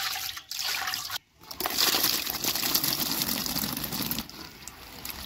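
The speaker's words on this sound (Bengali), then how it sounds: "কুলটা জলে দিয়েছি, এইভাবে হাত দিয়ে নাড়াচাড়া করে ভালো করে পরিষ্কার করে 2 থেকে 3 বার ধুয়ে নিব।" Jujube fruits stirred and washed by hand in a bowl of water, giving continuous close sloshing and trickling with a brief pause midway, no voices.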